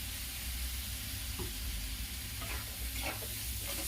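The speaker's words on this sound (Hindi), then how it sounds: "गैस को हाई फ्लेम पर करके इसे मैं भूनूंगी" Ginger garlic paste frying in a pan over a high flame while being stirred, a steady close sizzle with soft scraping stirs and a few brief clatters, no talking.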